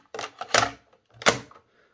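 Plastic play buttons on a 1980s Fisher Price kids' cassette player are pressed with no tape inside, giving two or three close, sharp clacks in quick succession.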